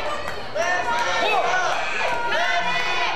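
A crowd cheers and shouts at an IZW independent wrestling show, with loud, continuous roaring and whistling and a commentator talking over it.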